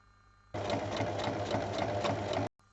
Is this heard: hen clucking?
no